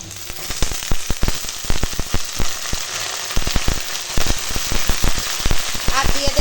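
Chopped jute leaves hit a pan of fried onion, garlic and green chilli, setting off a dense, steady sizzle broken by frequent sharp crackles and pops, close and loud throughout.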